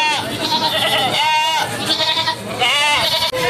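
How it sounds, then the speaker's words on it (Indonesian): Kacang goats at a busy livestock market bleat loudly and repeatedly with wavering, nasal calls that overlap one another, set against constant crowd noise. "ini adalah kambing kacang yang unik."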